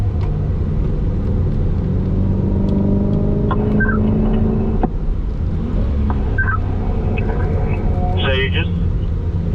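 Corvette accelerating on a race track during hot laps, heard from inside the car as a steady loud engine rumble and road drone throughout, with a voice coaching over it.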